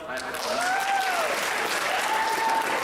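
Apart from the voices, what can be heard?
audience applause before poem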